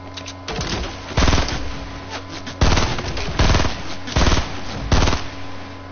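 Video game gunfire rattles in repeated loud bursts of automatic shots, about six volleys spaced roughly a second apart over a steady background hum, with no talking.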